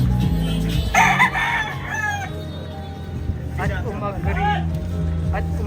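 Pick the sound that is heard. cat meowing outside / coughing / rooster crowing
rooster crowing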